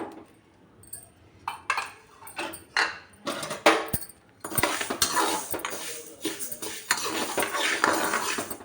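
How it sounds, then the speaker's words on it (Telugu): Fenugreek seeds are stirred while roasting in a pan on a stove for mango pickle, heard as scattered close clinks and scrapes of a utensil against the pan, then a steady dry rattling sizzle. "స్టవ్ ఆన్ చేసుకొని ఈ మెంతుల్ని వేయించుకుందాం"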